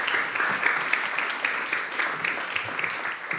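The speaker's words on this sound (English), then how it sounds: "Warm applause for Shukla." Sustained audience applause at a L'Oréal-UNESCO For Women in Science award ceremony, a steady wash of many hands clapping at moderate volume, fairly close, with no speech over it.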